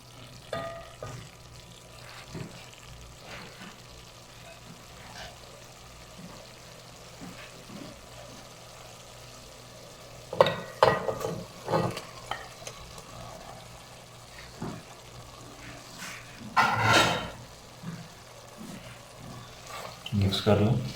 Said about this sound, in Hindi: मसाला तैयार हो चुका है। अभी हम इसमें चिकन डालेंगे।